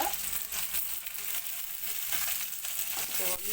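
Dried red chillies and curry leaves crackle in hot oil while tempering a puli rasam, a steady close sizzle with small pops running throughout and no voices.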